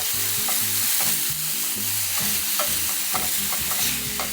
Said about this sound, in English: I want to deglaze the pan and get all these nice little brown bits